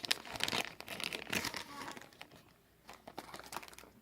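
Paper packaging being torn open, close crinkling and ripping in quick irregular bursts, then a quieter pause and a few more rustles.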